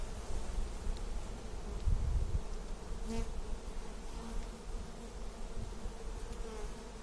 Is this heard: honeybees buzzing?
yes